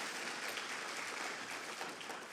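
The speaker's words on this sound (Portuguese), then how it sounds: "Dá mais uma salva de palmas para Jesus bem forte." A church congregation claps loudly and steadily for Jesus during a service, a dense continuous burst of many hands lasting a couple of seconds with no voices on top.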